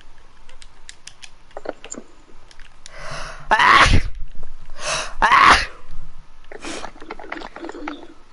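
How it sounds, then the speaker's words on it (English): Two loud, close sneezes burst out in quick succession, with a smaller sneeze-like huff afterward, over quiet clicking and faint background sounds from a Minecraft game session. "Sneezed."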